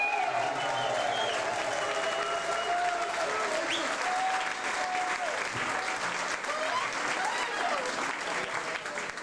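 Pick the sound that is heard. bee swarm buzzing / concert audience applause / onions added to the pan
concert audience applause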